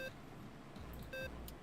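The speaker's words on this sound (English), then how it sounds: "that's my alarm telling me to go to bed." Electronic phone alarm beeps in short tonal bursts, two clear pulses repeating at a steady interval over a low background rumble, fairly quiet.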